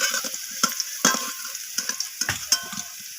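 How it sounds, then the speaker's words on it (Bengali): Potatoes frying in hot oil in a kadai with salt and turmeric, a steady sizzle broken by sharp stirring scrapes and clatters at irregular intervals, close and moderately loud with no talk. "লবণ আর হলুদ দিয়ে আমি আলুটাকে লালচে করে ভেজে নেব"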